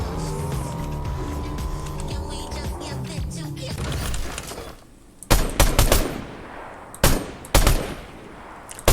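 A car racing in a video game, engine whine and tire squeal at first, then the engine drops away and sharp bursts of gunfire break through in loud clusters.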